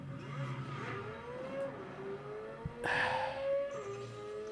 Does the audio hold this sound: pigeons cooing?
no